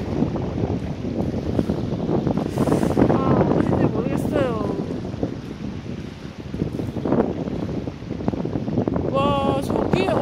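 Strong wind along a sea coast road in Masan buffets the microphone with a continuous roar, and someone talks over it for much of the time.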